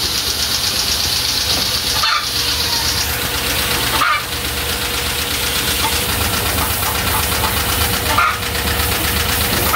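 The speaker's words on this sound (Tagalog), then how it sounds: "itong makina ito ay para sa tubig, para malakas yung pagbubuhos ng tubig" The engine of a water pump machine on a cattle farm chugs loudly and continuously nearby, a dense rattling drone with faint periodic thumps every couple of seconds.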